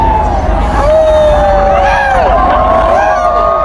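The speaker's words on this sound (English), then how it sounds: "here goes the crowd" Crowd cheering and shouting during a solar eclipse in Oregon, a loud sustained roar of many voices with rising whoops and whistle-like cries, steady throughout.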